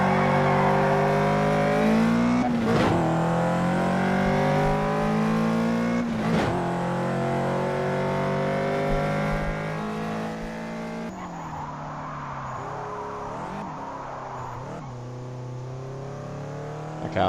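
Racing car engine in the video game Project Cars 2, with steady high harmonic engine tones rising and falling through gear changes, two sharp shift transients, then a rougher, muffled engine note toward the end, continuous and fairly loud.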